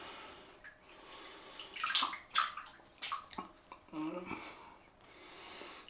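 Tap water runs and splashes over a Gillette Slim Adjustable razor and a synthetic shaving brush, with uneven bursts and gurgles as items pass under the stream.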